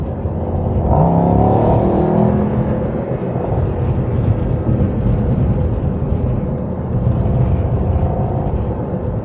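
A 2024 Mercedes-AMG GT 63 engine roars steadily throughout, loud and close, with a rising rev early on as it accelerates from rolling, then a sustained strong drone.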